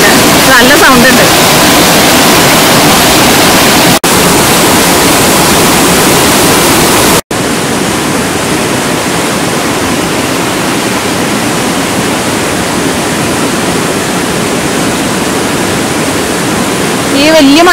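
Small waterfalls tumble beside a mountain road to Idukki Dam, a steady, loud broadband rush of falling water that fills the clip with brief dropouts near four and seven seconds.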